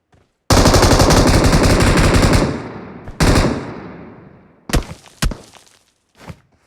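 Gunfire in PUBG: a long, loud automatic spray of rapid shots for about two seconds, then a second shorter burst trailing off, followed by a few sharp single reports and a faint final shot.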